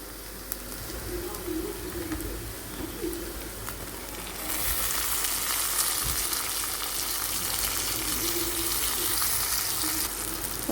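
Tomatoes drop into ginger garlic paste frying in a pan, and a quieter sizzle swells into a louder, brighter hiss partway through, with a cooing pigeon faintly in the background.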